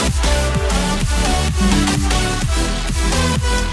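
An unmixed early version of an electronic music track plays loud and full, with a steady punchy beat, repeating bass notes and synth leads forming a dense, slightly muddy wall of sound throughout.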